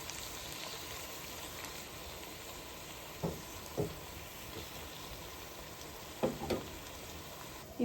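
Tomatoes cooking down in a pan for a brown beech mushroom curry give a steady, quiet sizzle and fry with a few sharp clinks of stirring, and no one speaks.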